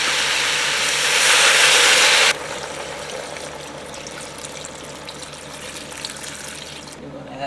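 Vegetable stock poured into a soup pot of ham and cabbage soup, a loud splashing rush for about two seconds, then a softer steady bubbling and hiss under faint background noise.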